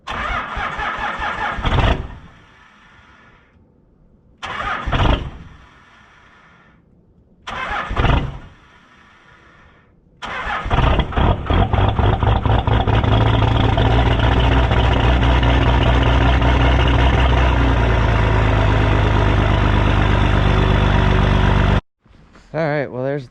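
A Cummins diesel engine on a fresh 850 cold-cranking-amp battery cranks in three separate bursts, then fires and settles into a loud, steady, clattering idle before cutting off abruptly near the end.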